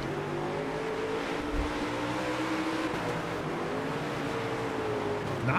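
Dirt race car engines droning steadily in the World of Outlaws dirt racing game, a continuous loud engine roar with shifting pitch under a green-flag restart, no talk.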